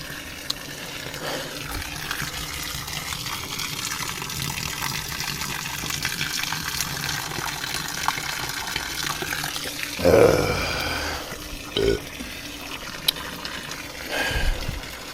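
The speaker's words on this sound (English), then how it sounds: "Before you ever drink from the water hose, make sure you let it run for a minute or two." Water running from a garden hose, a continuous gushing hiss held at a moderate level, with a few brief louder splashes and bumps near the end.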